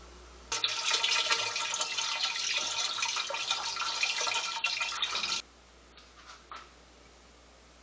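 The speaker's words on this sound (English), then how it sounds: "I'm gonna switch my maple mash over into my pot." Maple mash poured into a pot still for maple moonshine: a steady, loud liquid splashing and rushing for about five seconds, then it stops, leaving a few faint drips and trickles.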